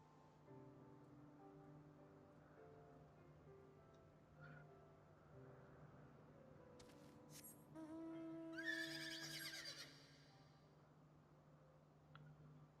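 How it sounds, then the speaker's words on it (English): The Kirin horse mount in Final Fantasy XIV lets out a bright, shrill whinny near the end, rising over soft, sustained game music. "there turns out to be one more horse, which you get from a side mission for collecting all these horses, known as Kirin"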